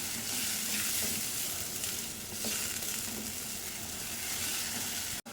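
Tomato puree sautéing in hot oil in a pan while cooking a Gujarati papdi muthiya shaak: a steady, dense sizzle and crackle throughout, close and fairly loud, with a brief cut near the end.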